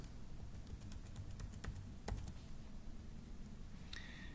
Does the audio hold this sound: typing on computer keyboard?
yes